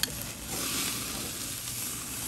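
A sous vide chuck roast sears in a hot pan after being flipped, giving a steady, close sizzle and crackle that holds at an even level with no talking.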